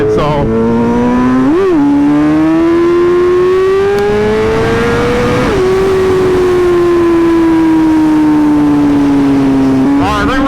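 A BMW M1000RR motorcycle accelerating hard through the gears, its loud engine note climbing steadily with sharp dips at each shift, recorded up close with wind rush.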